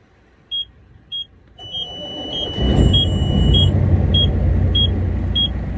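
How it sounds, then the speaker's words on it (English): A truck's low air pressure warning beeps regularly about twice a second, sounding until pressure reaches 60 PSI, joined by the truck engine's deep rumble that starts and keeps going underneath. "Usually once it hits 60 PSI, it'll stop beeping."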